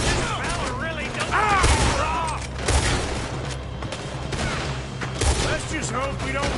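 Gunfire in the Red Dead Redemption video game: a sustained, loud exchange of shots and bursts with several sharp peaks, mixed with shouting voices and talk throughout.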